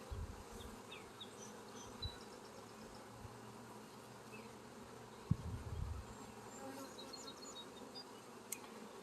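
Bees buzz around a pair of open beehives during a hive inspection, a soft continuous hum with faint higher drones drifting past and a few low thumps and knocks, no one speaking.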